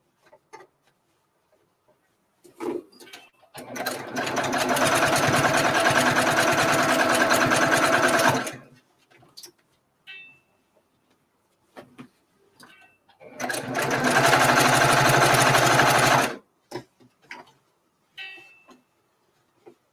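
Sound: Handi Quilter Luminaire longarm quilting machine stitching

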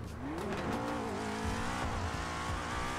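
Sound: Ferrari accelerating in video game GTA

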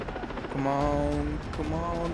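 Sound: helicopter in Far Cry 3 video game

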